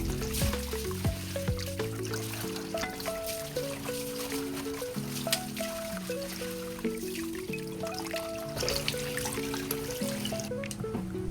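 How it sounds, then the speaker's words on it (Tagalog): Tap water runs steadily over raw meat being rinsed in a home kitchen for Filipino nilaga, a continuous trickle beneath prominent background music. "Sa paghuhugas ng karne, 3 beses ko itong hinuhugasan guys."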